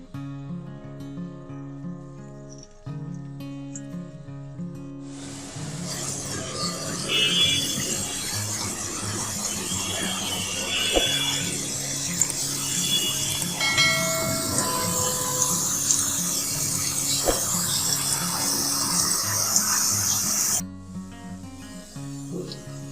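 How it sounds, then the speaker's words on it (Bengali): Snacks dropped into hot oil set off a loud, bright, continuous sizzle that bursts in suddenly and stops abruptly, with soft background music before and after. "এখন এই পর্যায়ে আমি স্ন্যাক্স গুলো দিয়ে দেব ভাজার জন্য"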